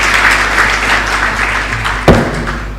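Applause from an audience at an award ceremony fills the clip, steady dense clapping close by, with a single sharp thump near the end.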